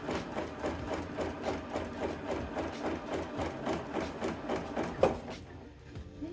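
A sewing machine stitches steadily while doing circular free-motion quilting guided along a ruler, its needle pounding in a fast, even rhythm up close, then stopping abruptly near the end.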